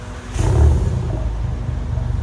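A 400HP VW GTI with a Unitronic exhaust and 3-inch downpipe gives a short, loud, deep rev that swells and then settles into a rumbling idle.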